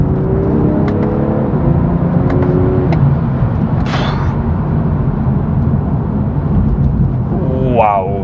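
A 2020 BMW M340i (G20) engine roars steadily under hard acceleration without a downshift, with a rising whine near the end and brief bursts of noise in between.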